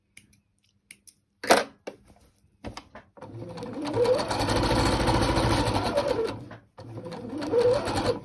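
Sewing machine running a back stitch, a close buzzing whir in two bursts of a few seconds each with a brief pause between, preceded by a few small clicks and handling noises.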